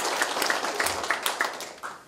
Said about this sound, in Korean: 이분에게도 박수 한번 보내주십니다